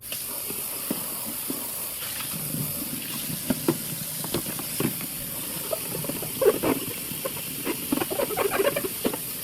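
Water is poured into a tray of sprouting lentils, making a soft hiss with scattered patters and splashes that rise and fall. It sounds close, and no one speaks.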